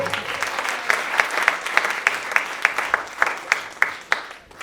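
An audience claps for a saxophonist at a 2023 Martin Luther King tribute, a close, lively round of applause with sharp individual claps popping out over the steady patter before it fades at the end.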